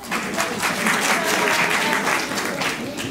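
Steady, dense audience applause fills a theatre event hall, a close crowd of many hands clapping continuously and loudly throughout with no pause, and no clear talk on top.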